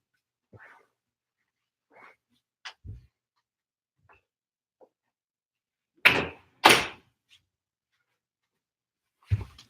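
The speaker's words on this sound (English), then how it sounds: "Let me go shut my door first." A door is shut indoors: a few faint knocks and thuds, then two loud close slams in quick succession and one more thump near the end, with quiet gaps between.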